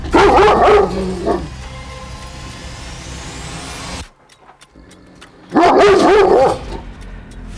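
A dog barks in two loud bursts, a rapid cluster of barks at the start and another after a short quiet gap.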